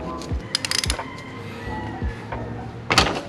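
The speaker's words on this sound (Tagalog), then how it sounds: "Then with your 17mm socket, you're going to loosen the drain bolt." A 17mm socket wrench loosens a car's oil drain bolt, giving close metallic ratcheting clicks and a clunk, with scraping and a louder clack near the end.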